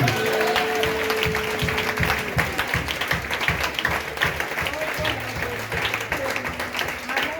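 A church congregation applauds in a steady, rhythmic clap that fills the room for several seconds, with voices calling out over the clapping.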